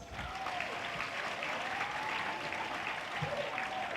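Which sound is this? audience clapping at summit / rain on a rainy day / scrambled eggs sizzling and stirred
audience clapping at summit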